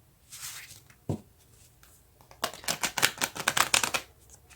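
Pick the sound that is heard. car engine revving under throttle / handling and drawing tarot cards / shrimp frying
handling and drawing tarot cards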